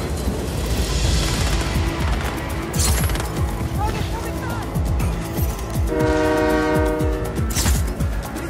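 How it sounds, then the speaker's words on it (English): A train in the video game Just Cause 4 rumbles and clatters along the rails, with a loud horn sounding twice over dense rolling noise and people talking over the action. "Train's moving again."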